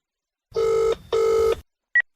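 Two long electronic telephone rings, each just under half a second, separated by a brief gap, followed by a short chirp from a voicemail line. The tones are clear and close with no talking over them.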